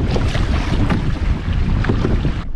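Strong wind buffets a canoe out on a lake, making loud, continuous blustery roaring and microphone rumble throughout, with no voices.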